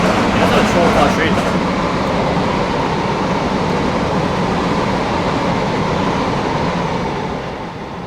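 Simulated trains from Train Simulator 2018 run side by side in a race, a steady loud rumble of wheels and motors that holds throughout and fades a little at the end, with talk over it.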